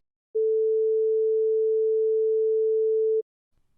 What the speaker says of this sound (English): a 400 Hz pure tone sounds like this